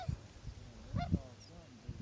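Geese or swans honk in the distance during a North Carolina swan hunt, a few scattered nasal calls and one short burst of honking, faint over outdoor background noise.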